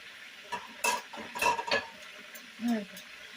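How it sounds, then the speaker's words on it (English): Pork chops are turned in a hot pan, with a few sharp utensil clinks and scrapes against the cookware over a faint sizzle, close by and irregular. "Here I got my pork chops going, so let's flip the pork chops."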